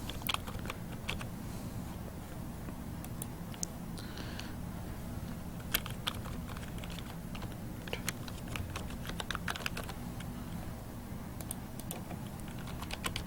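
Brisk typing on a computer keyboard while entering a new database record, a steady run of sharp, close key clicks with brief pauses, quiet background and no voices.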